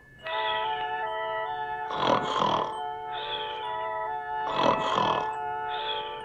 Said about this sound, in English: How can I get any sleep with you snoring?